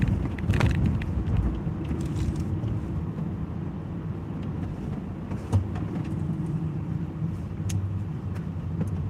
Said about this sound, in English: There's cars about.